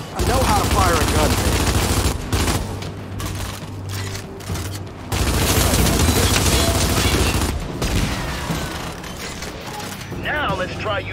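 Heavy automatic gunfire in the Gears of War 5 boot camp, fired at Guardian robots, loud and sustained with rapid bursts, booms and mechanical clatter, under in-game voices and music.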